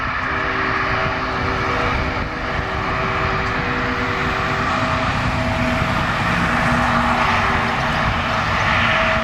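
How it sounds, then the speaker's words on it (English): A Boeing 787 airliner in LOT Polish Airlines livery gives off a steady, loud jet roar that holds constant throughout, with a low engine hum underneath and no talking. "Boeing 787 came from San Antonio Air Force Base and was in the LOT livery"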